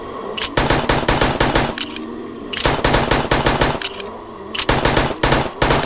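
Automatic gunfire from the video game Animals VS Zombies rattles in loud rapid bursts, three long volleys separated by short pauses, with no talk over it.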